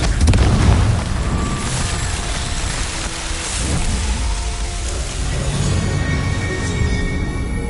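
A Confringo fire spell explodes in Hogwarts Legacy on PS5, a loud booming blast that rolls into a dense, sustained roar of crackling debris and rumble filling the whole stretch.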